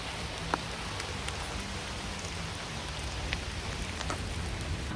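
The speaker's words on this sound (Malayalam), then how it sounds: "ഇപ്പോൾ ചെറുതായിട്ട് ഡ്രിസിൽ ചെയ്യുന്നുണ്ട്" Light drizzle falls through a small forest near Deep Creek Lake, Maryland, making a steady soft hiss with a few scattered drop taps, nearby and continuous, with no voices.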